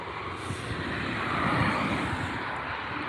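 An EasyJet airliner arriving at Newcastle airport, its engines a broad, steady roar that swells slightly in the middle, with wind rush and no talk.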